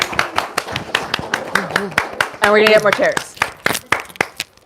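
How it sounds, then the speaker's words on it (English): Scattered audience clapping in a small room at a poetry book reading, sharp irregular claps running under a person talking close by. "I just want to give like a round of applause for each and every one of you right now"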